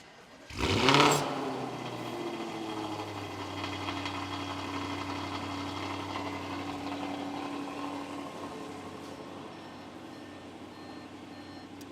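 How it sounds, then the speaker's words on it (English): A 2014 Audi RS5 engine turns over on a cold start and catches with a loud burst, then settles into a steady, rough idle that hums on without interruption. "This is kind of a cold start."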